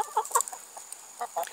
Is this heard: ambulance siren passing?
no